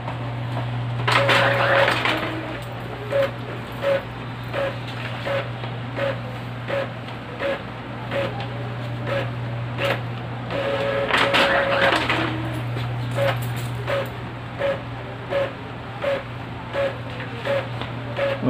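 An Epson L3210 inkjet printer prints two mono pages, sounding as a long run of regular mechanical clicks and ticks, with two louder whirring feed bursts. Close by, it plays alone, with no talk.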